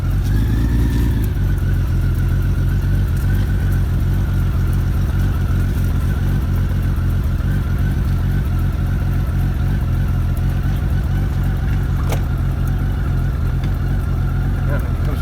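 A heavy motorcycle engine runs steadily in Tokyo commuter traffic, loud and continuous with a droning mid-range hum throughout and a brief rise near the start.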